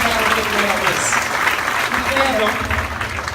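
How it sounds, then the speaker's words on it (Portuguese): A seminar audience claps together, dense sustained applause at full loudness throughout, with a voice speaking over the clapping. "Salva de palmas para todos vocês que vieram aqui a primeira vez."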